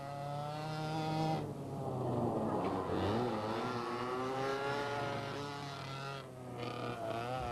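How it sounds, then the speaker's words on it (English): Quarter-scale radio-controlled race cars, including a sprint car, a super modified and a Grand National stock car, speed around a track, their small engines whining loudly with pitch rising and falling as they pass. "we saw 3 categories of cars speeding around the track: the sprint car, super modified, and everybody's favorite, the Grand National stock car"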